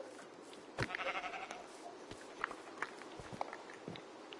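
A short Minecraft sheep bleat rings out amid scattered footstep-like clicks and soft thuds, in rain, moderately quiet with no voices.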